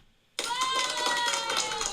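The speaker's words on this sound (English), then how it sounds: "Well, we got applause." A built-in applause sound effect in Ecamm bursts in abruptly after a short quiet moment, then holds as a dense, steady wash of crowd clapping.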